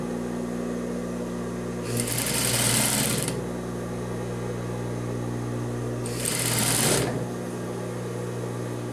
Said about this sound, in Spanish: y cosemos hasta el otro extremo del canesú